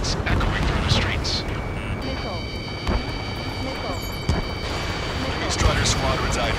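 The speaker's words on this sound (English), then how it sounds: "Gunfire and a roar of jets echoing through the streets." Gunfire and roaring jets from the Ace Combat 7 video game form a dense, rumbling wall of engine noise with scattered sharp bangs, while voices talk over the din.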